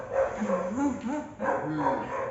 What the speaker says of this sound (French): il y a le chien qui aboie